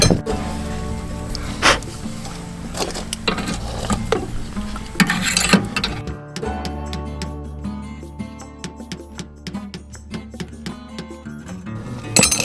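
A screwdriver pounds a suspension bushing into a trailer's MORryde CRE3000 suspension, producing a run of sharp, close metallic taps at an uneven rhythm, some louder than others.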